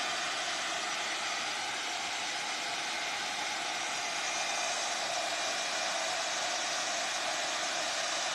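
A handheld dryer blowing on a foil craft piece: a continuous, even, broadband whoosh held at a steady level throughout, close and unbroken, with no voices.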